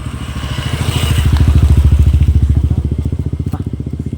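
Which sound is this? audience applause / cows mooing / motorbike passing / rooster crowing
motorbike passing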